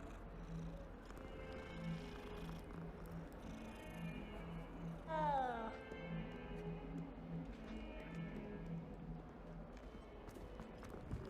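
Cats in Hogwarts Legacy meow faintly in the background, with one clearer meow midway, over a steady soft rhythmic game ambience and light footstep-like patter.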